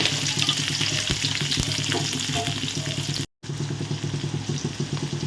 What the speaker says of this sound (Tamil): இப்போது பெருஞ்சீரகம் சீரகம் கடுகுளு உளுத்தம்பருப்பு போட்டுக்கலாம்